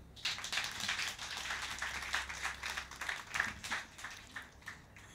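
At a book launch, an audience gives brief, steady applause of many hands clapping at once, fairly close and lasting about five seconds.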